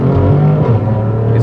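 A BMW F80 M3 engine with a flex-fuel tune runs loud and close, a continuous throaty drone that shifts pitch as it revs.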